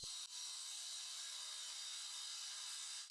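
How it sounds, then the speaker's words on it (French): A cut-off saw grinds continuously through render, a harsh high-pitched whine that holds steady for a few seconds. "J'utilise ma scie à tronçonner pour retirer l'enduit."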